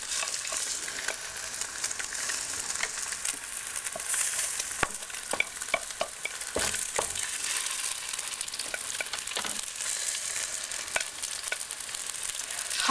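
Fish balls and meatballs sear in a hot pan, a steady quiet sizzle broken by occasional clicks and taps as they are moved around.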